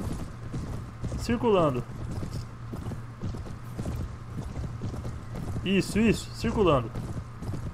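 Cavalry horses' hooves clip-clopping in a game battle from Sands of Faith, a rhythmic patter running under wind and ambient noise while someone talks over it.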